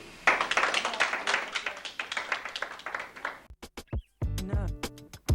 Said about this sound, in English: Club members, I'd like for you to give your parents a round of applause for letting you go on this trip.